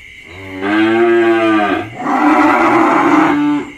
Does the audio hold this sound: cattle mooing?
yes